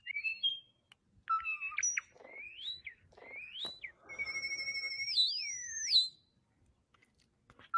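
European starling mimicking Star Wars sound effects, giving a run of chirps, swoops and electronic-style warbling whistles, ending in a long looping sci-fi tone; close, clear and alone over nearly eight seconds.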